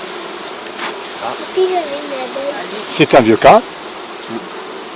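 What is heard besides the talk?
honeybees buzzing around a hive frame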